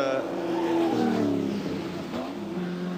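Group A touring race cars at Bathurst in 1985, including a BMW, with engines droning and shifting pitch as they pass, heard under a race commentator's voice.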